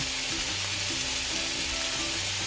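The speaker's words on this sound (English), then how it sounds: "So while frying the ingredients, I love to season it" Ingredients for pancit canton stir-fried noodles sizzling steadily in a hot pan, a continuous loud frying hiss with faint stirring, no voices.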